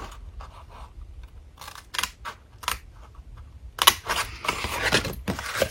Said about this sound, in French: Donc on coupe jusqu'au deuxième pli.